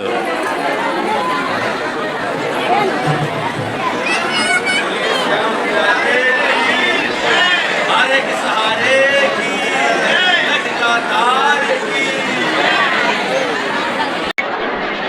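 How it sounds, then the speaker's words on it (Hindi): Dense chatter of a large crowd of devotees at Shyam Kund in the Khatu Shyam temple, many overlapping voices forming a steady, close babble throughout. "दोस्तों श्याम कुंड में लगी हुई है बहुत ज़्यादा भीड़, तगड़ी भीड़ है आज।"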